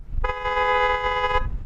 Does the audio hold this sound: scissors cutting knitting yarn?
no